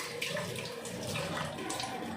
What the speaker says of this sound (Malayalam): വെള്ളം വെച്ചിട്ട് വാഷ് ചെയ്യുക